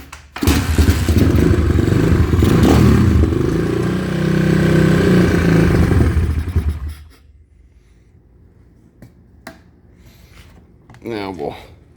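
A tricycle engine test fired without a gas tank, roaring loud and steady for about seven seconds before cutting off, followed by quiet knocks and a brief voice near the end.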